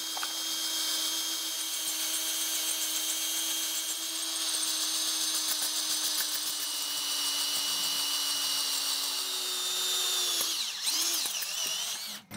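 A steady, high-pitched power drill whines continuously at close range, drilling out a broken exhaust stud for several seconds before winding down abruptly near the end.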